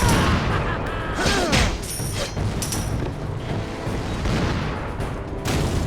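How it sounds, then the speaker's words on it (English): Cannon fire booms in the PlayStation 2 game Pirates of the Caribbean: The Legend of Jack Sparrow, a dense run of blasts and thuds over continuous battle noise and music. "We must stop those cannons from destroying the interceptor."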